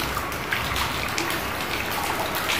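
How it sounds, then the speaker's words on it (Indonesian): Heavy rain falls steadily outside a house, a dense, loud, continuous wash of patter with no pauses. "Hujannya lumayan deras"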